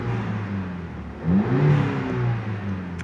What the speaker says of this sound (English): it does rev fine, and I mean, I can hear the blow-off valve, I can hear the recirculating valve